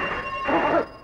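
In an old Telugu feature film scene, a telephone bell gives one short, bright ringing burst lasting about a second.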